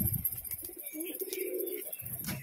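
Pigeons of the fancy breed kept by a breeder, a pair of Bali Powder birds among them, give a low murmuring coo near the mic over a bit more than two seconds, with soft rustles around it.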